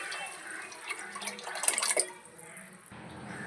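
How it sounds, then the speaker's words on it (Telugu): Tamarind pulp is poured into a pan of tomato and chili fish curry, giving a soft splashing, liquid pour that swells briefly and then fades, quiet and close. "చింతపండు గుజ్జు ఇప్పుడు వేసుకుంటున్నాను."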